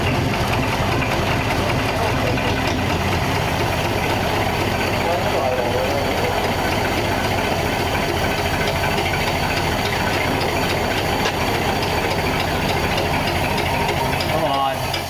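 A 1934 Ford engine runs loud and close with a steady, rough mechanical idle that knocks and chatters throughout. No voices break through the noise.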